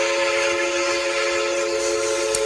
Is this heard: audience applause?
no